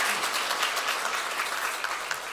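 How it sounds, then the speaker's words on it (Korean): A church congregation applauding during Sunday morning worship, a dense, even wash of many hands clapping together at moderate distance, sustained for the whole moment. "우리 간사님 5년 동안 수고하셨다고 우리 박수 한번 하겠습니다"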